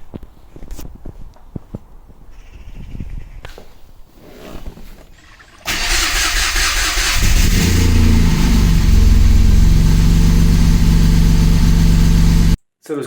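A car engine, with newly replaced VVT unit and old timing chain and tensioners, cranks and fires for its first start, then settles into a loud, steady close-up idle after some preceding clicks and workshop handling noises.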